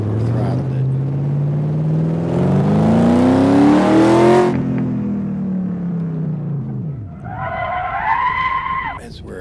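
Car engine over-throttled, revving hard with a rising then falling roar and tyre skid, followed by a higher whining rev near the end; loud and close, no talk.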